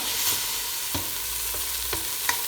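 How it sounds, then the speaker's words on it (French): Tomatoes frying on a stovetop for a lentil dish give a steady close sizzle with a few sharp stirring scrapes. "les tomates aussi on va les laisser un petit peu sur le feu"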